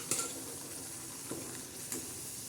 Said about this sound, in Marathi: हे बघा कसा गदा मसाला शिजतोय